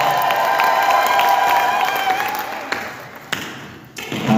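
A church congregation claps and ululates, a crowd of clapping and high trilling voices that fades over a few seconds, with a few scattered thuds and taps toward the end.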